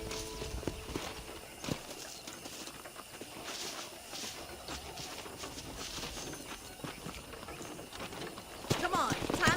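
A horse in the Red Dead Redemption video game clip-clops along at a steady walking rhythm under intermittent talk, with faint ambient hiss and a brief whinny near the end.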